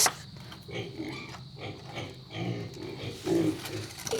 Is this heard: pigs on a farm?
yes